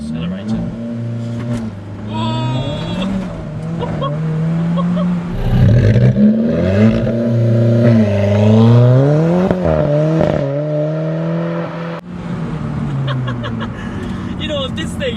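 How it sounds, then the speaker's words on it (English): A Volkswagen Golf R in dynamic mode and automatic makes a launch-control start, its engine revving up in rising surges. People talk in the cabin over the acceleration. "And now he said that I can do launch control."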